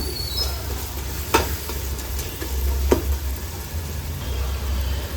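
Biryani masala powder and rock salt stirred in a hot pan, a steady soft sizzle of frying with a few sharp scraping clicks of the spoon against the metal.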